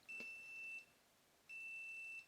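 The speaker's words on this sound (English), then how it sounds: "So it is beeping away, telling us that it is at least 95 degrees Celsius hot right there" A Sage smart kettle sounds two steady high-pitched electronic beeps, each lasting under a second with a short gap between them, loud and clear over a quiet background with no talking.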